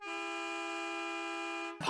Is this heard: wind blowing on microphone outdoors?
no